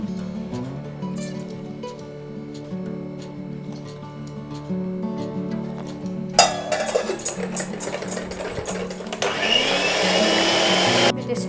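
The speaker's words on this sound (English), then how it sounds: "And blend again." Blender whirs through gluten-free cake batter made with milk, corn flour and rice flour, starting as a lower motor hum and jumping to a loud, rough full-speed roar partway through.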